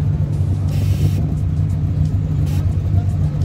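A car at a stance car meet rumbles loudly with a continuous low engine drone and a hissy wash from spinning tyres, while a voice talks over it.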